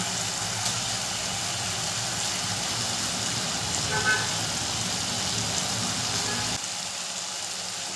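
Fried pointed gourds go into a pan of potatoes and spices for a Bengali rui fish curry, filling it with a loud, even, rain-like sizzle that holds steady and then drops off sharply near the end.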